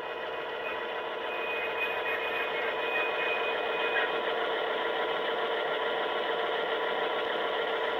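A model locomotive fitted with a SoundTraxx sound decoder produces a steady, droning mechanical rumble while braking, with a thin, high brake squeal running through it that fades midway.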